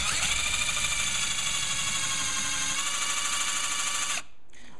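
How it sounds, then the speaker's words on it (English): A power drill bores a pocket hole through a pocket hole jig, a steady loud whining drone with a grinding bite for about four seconds before cutting off abruptly into quiet. "I'm going to put it in my drill, because you're going to need a drill to do this."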